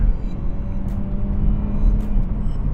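A 2012 Mercedes-Benz C180 CGI Coupe AMG W204 driving, heard from inside as a steady low engine and road rumble with faint ticks, no clear surge of acceleration.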